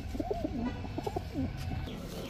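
Fancy pigeons kept for sale, including teddy, Budapest, giribaz and racer breeds, coo in a few short, soft rolling phrases close by within a quiet enclosure.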